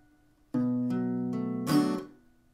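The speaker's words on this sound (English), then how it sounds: "I'm just plucking those first three notes and then strumming down with my nail and then muting the strings" A guitar plucks three single notes one after another, then a quick downward fingernail strum rings out briefly before the strings are muted into silence, from a song.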